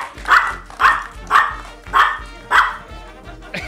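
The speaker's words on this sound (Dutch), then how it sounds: "Een hondje. En dan snap ik dat het een hond is." A dog barks in a rapid, regular series of about six sharp barks, loud and close, each bark separated by a short pause, with faint background voices in the room.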